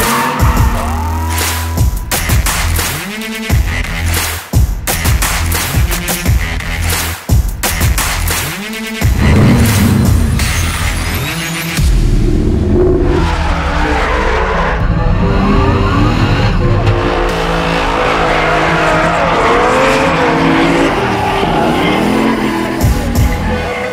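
Drift cars compete at a drifting competition, with engines loudly revving and screaming through repeated gear changes, then a sustained high-revving roar with tire squeal as the cars slide, close and continuous.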